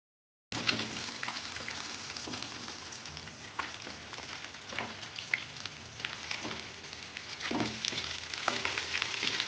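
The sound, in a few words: katla fish frying in oil in a pan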